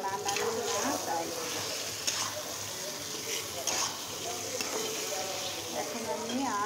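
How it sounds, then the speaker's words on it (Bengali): Soft, delicate fish cooking in a frying pan, giving a steady sizzle and crackle for several seconds, with occasional brighter spitting bursts over a continuous hiss. "এটাকে জাস্ট 2 মিনিটের জন্য কষিয়ে দেব"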